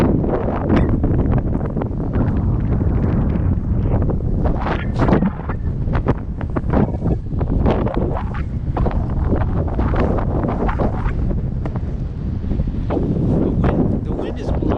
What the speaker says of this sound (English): The wind is blowing, and it brings a chill to me.